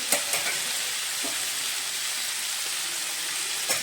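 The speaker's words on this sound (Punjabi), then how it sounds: "ਬਸ ਇਹਨੂੰ 2 ਮਿੰਟ ਜਿਹਾ ਅਸੀਂ ਭੁੰਨਣਾ" Onion, tomato and green chili fry in a pan for bhurji, giving a steady, even sizzle close up, with a few faint stirring clicks and no talk.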